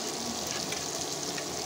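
Bitter gourd slices frying in hot oil give a dense, continuous sizzle at close range, with faint scrapes as they are turned, and no one speaking.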